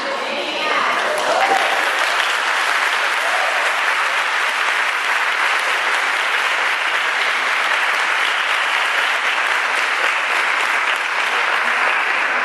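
Sustained, dense applause from a church audience after a personal testimony, loud and unbroken, with a few voices blending in early before the clapping settles into a steady roar.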